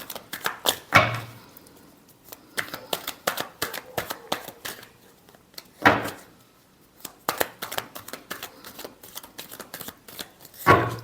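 Tarot cards being shuffled by hand, giving repeated bursts of riffling and snapping in irregular clusters, close and fairly loud, with no talking.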